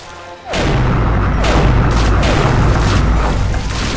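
Level 2 cannons firing in a video game: a loud sudden boom followed by a continuous rumbling barrage of heavy blasts, close and dense, with no talking over it.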